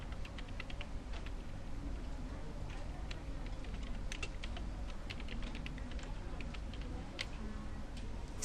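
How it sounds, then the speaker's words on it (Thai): Fingers type a salesperson's name on a computer keyboard, a steady patter of quick close key clicks over a constant low background hum. "จากนั้นให้คลิกมาในช่องของชื่อพนักงานขาย เป็นนายสามารถมุ่งการขายค่ะ"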